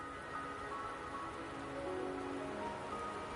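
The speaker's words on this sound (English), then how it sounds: "the rain won't last much longer." Steady video game rain falling on a surface, a continuous soft patter with no voices, even and moderately quiet throughout.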